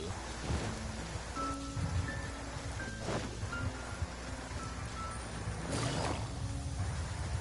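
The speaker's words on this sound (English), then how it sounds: "Taking a stroll in the middle of a downpour certainly rouses the spirit." Steady heavy downpour of rain in a Genshin Impact game scene, a dense continuous hiss with a few louder swells and faint musical tones underneath.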